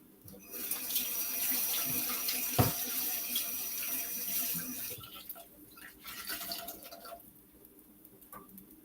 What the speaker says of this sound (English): I've got to wash my hands now